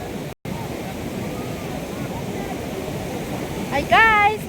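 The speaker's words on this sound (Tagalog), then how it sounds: "Laki ng alon eh." Big surf at Binmaley Beach, Pangasinan, with a steady rushing wash of waves filling the background while voices call out briefly near the end.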